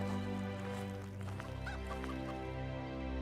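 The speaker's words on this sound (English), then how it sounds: "I definitely keep hearing some chickens." Chickens cluck in short bursts over a dense, steady background of game music and ambient noise in the video game Animallica.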